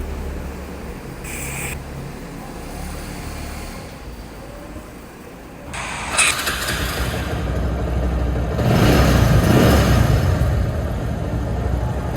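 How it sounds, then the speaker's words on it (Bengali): A second-hand Bajaj Discover 135cc motorcycle engine runs outdoors, idling low before swelling into louder revs toward the end, with a steady background hum throughout. "আপনার গাড়িটির সাউন্ড আপনাদেরকে শোনাচ্ছি"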